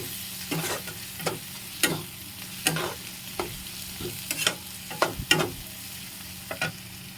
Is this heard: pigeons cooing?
no